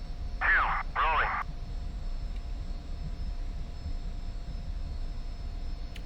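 An F-86 jet's engine drones steadily as the aircraft rolls for takeoff in a flight video game, a low, even hum broken at the start by two brief radio beeps.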